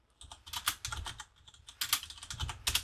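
Close, quiet clicking of a computer keyboard as a git command is typed, irregular bursts of keystrokes with brief pauses between them.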